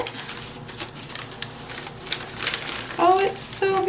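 Hands unwrap a mailed Philodendron plant packed in cotton, giving soft rustling, crinkling and scattered light taps up close, with a brief voice near the end.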